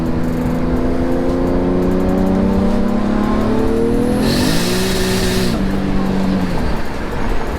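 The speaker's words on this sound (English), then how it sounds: "I'm just letting the throttle off and throwing gears." A car engine at night drops off the throttle and shifts gears without the clutch, a loud steady engine drone whose pitch slides down and back up at each gear change, close and continuous throughout.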